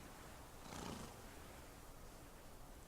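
A horse neighs during a fight with a bear in a Wild West video game, one faint, brief whinny over a steady hiss of background noise, with no talking.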